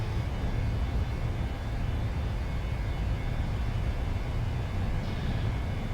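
A PMDG Boeing 737-600 in Microsoft Flight Simulator 2020 accelerates down the runway on its takeoff roll, a steady, loud low engine roar and rumble filling the whole span without a break.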